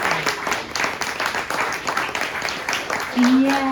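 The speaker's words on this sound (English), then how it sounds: "give the poets here a big round of applause, and also yourselves" An audience at a poetry reading gives a sustained round of applause, many hands clapping densely throughout, with a voice rising briefly near the end.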